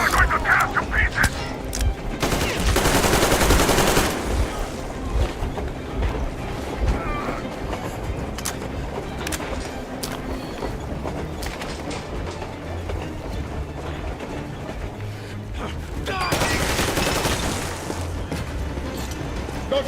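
Gunfire in Metro Exodus, loud bursts of shooting at the start and again near the end, with a busy mix of game noise and voices in between.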